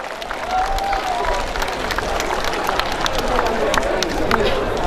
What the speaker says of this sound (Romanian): Încă o dată să mulțumim cu aplauze, dar acum multe aplauze